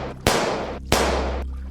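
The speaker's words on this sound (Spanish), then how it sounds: "Se escuchó unos disparos en ese instante por encima de ellos" Two sharp gunshots crack one after another about two-thirds of a second apart, each trailing off in a long echo, as a sound effect in a children's audiobook tale.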